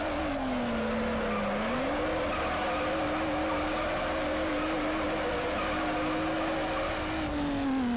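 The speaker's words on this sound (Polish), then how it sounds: "Skasowaliśmy wszystkie punkty za taki fantastyczny drift" A car drifts in Need for Speed Underground, its engine droning steadily with a sustained tire squeal that bends in pitch, loud and continuous throughout without any voices.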